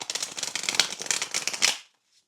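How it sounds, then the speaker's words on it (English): Playing cards being shuffled off camera, a quick run of crisp riffling flutters and snaps lasting under two seconds, close and fairly soft, then silence. "I'm shuffling off camera because when I shuffle on the table, it makes the candles go crazy"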